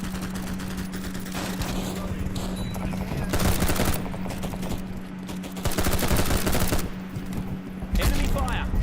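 Dense automatic gunfire in a war video game, with sustained rattling bursts and heavier volleys swelling and easing over a steady low hum, loud and continuous throughout.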